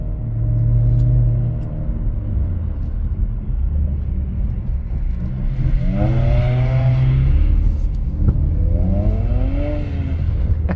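A BMW engine revs up loudly in repeated rising sweeps over a steady low rumble, climbing twice to high pitch during winter drifting.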